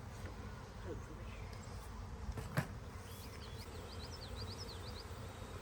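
A honeybee swarm gathering on leafy branches gives a faint, steady outdoor buzz with a few sharper passing bee whines, and a single soft knock midway.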